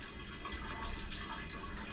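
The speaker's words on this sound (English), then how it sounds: "So we flush the toilet" Toilet in a Flagstaff E-Pro E20BHS camper flushing, a steady close rush of water running without break for the whole stretch, no voices.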